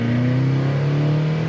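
A 1970 Chevelle convertible's engine revs steadily close by, a loud continuous rumble with a rising low drone and no talk over it.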